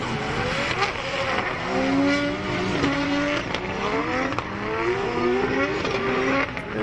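Drift cars battling at Manfeild during a DriftWars event, including a Nissan S15, with repeated tire squeals and rising, falling engine revs. The sound is loud and continuous and carries across the track.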